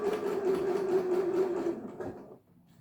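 Sewing machine running steadily as it stitches a sun hat brim to its crown, a continuous even whir that slows and stops near the end.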